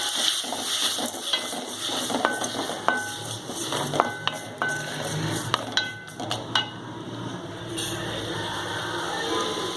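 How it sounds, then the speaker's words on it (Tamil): Tomatoes sautéing in a pan for a vallarai keerai chutney, a steady soft sizzle broken by sharp clinks and scrapes of a metal spoon stirring against the pan. "தக்காளி நல்லா ஜூஸி ஆகிற மாதிரி நல்லா வதங்குற வரைக்கும் வெயிட் பண்ணி நல்லா வதக்கி விடுங்க."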